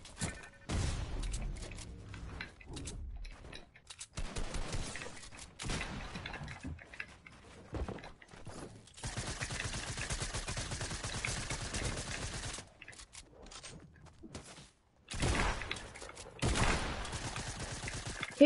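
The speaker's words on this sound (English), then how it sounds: "And there's someone shooting at me." Gunfire in the video game Fortnite comes in repeated bursts of rapid, loud shots with short gaps between them, heard close over most of the span.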